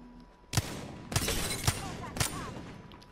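Wingman revolver shots in a video game, four sharp separate cracks spaced about half a second apart over a noisy game soundscape, with people talking.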